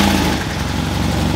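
A Mercedes CLS 63 AMG engine idles steadily nearby, a loud, deep, continuous rumble with a slight pulsing throb and no speech.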